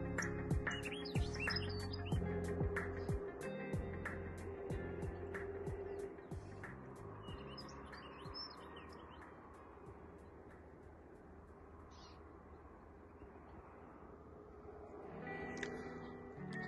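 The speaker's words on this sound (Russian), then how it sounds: "Птицы много, очень-очень много птиц." Many wild birds, including goldfinches, chirp and tweet near ornithological mist nets set to catch buntings and penduline tits, with dense overlapping calls close and far over a steady outdoor rumble.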